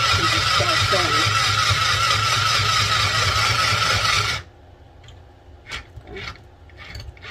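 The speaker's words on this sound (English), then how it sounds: "Put the needle inside of the material and just start sewing." A Singer Stitch Quick sewing machine stitching through fabric gives a steady, loud mechanical whir for about four seconds, then stops. Quiet handling clicks and a brief voice follow.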